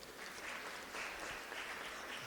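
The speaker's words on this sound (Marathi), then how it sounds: "टाळ्या वाजवा आपण सर्वजण" Wedding guests applaud as the couple lights a candle together, a soft, even patter of clapping that stays faint and distant throughout, with no talk.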